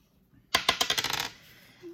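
Dice rolled for a board game draw: one quick clattering burst of rapid bounces on a hard surface, close and alone, settling within about a second.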